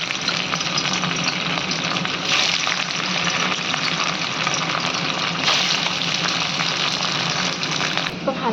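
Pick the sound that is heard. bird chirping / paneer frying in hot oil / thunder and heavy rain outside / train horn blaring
paneer frying in hot oil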